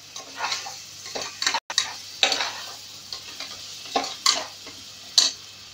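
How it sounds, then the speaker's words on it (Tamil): Meal maker (soy chunks) frying in a pan for biryani, with a steady sizzle and repeated scraping stirs and clinks of a spoon against the pan at an uneven rhythm, close and fairly loud, with no talking. "நல்லா ஃப்ரை ஆகட்டும்"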